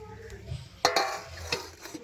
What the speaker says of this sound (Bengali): এখন একটা ঢাকনা দিয়ে ঢেকে রেখে দেব